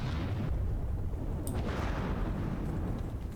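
Rapid burst-gun fire aboard warships in the naval combat game From the Depths, a continuous dense roar of overlapping blasts, loud and close, with no voices.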